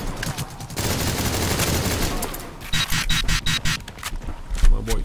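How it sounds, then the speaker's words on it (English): Rapid bursts of gunfire and explosive cracks from an airstrike in the shooter game AXYOS, dense and loud throughout with a brief lull midway before another barrage of shots, a voice faintly audible underneath. "I'm gonna call for airstrike again."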